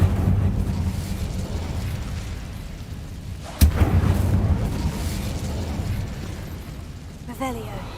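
An Incendio fire spell is cast in Hogwarts Legacy, one sharp whooshing burst of flame that rises out of a low rumbling game soundscape before a fainter crackle, with talk in the background.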